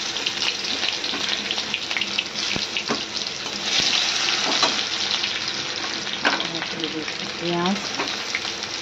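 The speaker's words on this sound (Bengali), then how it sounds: "দিয়ে দিলাম রসুন" Garlic sizzles in hot oil for a pointed gourd curry with mustard paste, a busy, close crackle broken by occasional clinks and scrapes.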